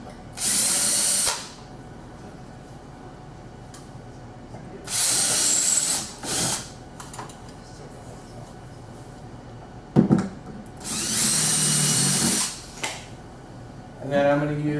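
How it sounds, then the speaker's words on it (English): A power drill with a 5mm bit drills out holes in a sliding-door organizer rail, three main loud whirring bursts of one to two seconds each with quiet gaps and a short final burst, close by. "Take my 5mm drill. I'm going to drill out each of the holes."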